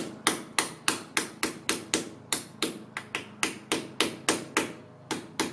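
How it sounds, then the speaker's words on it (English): A hammer taps a metal wheel center cap on a Nissan Micra K13 in a steady series of sharp, ringing knocks, roughly three per second, close by with no talking. "it does need a bit of help with a hammer at times"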